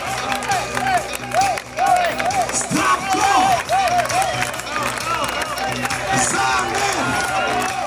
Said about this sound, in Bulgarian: наистина здравко заслужава вашите невероятни аплодисменти